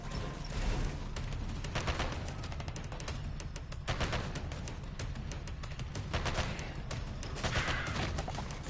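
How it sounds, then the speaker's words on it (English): A 20mm burst-fire autocannon firing in the video game Sandland, loud, continuous, dense volleys of heavy rapid shots with booming impacts, filling the whole stretch without voices. "this 20mm burst fire autocannon is great"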